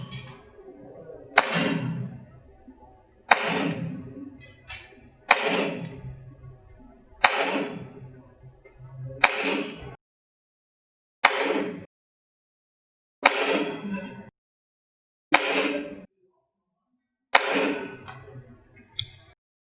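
A metal Auto Ordnance 1911 airsoft pistol on green gas fires 0.2 g BBs in about nine sharp, separate cracks a couple of seconds apart, each followed by a short decaying ring, with near silence between shots.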